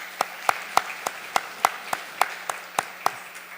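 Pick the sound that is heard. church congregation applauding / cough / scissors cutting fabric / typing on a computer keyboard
church congregation applauding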